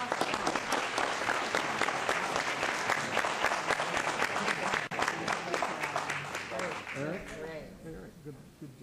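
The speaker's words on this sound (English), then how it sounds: "Another round of applause." A room of people at a city council meeting claps steadily for several seconds, close and dense. It fades toward the end as voices and cheering come through.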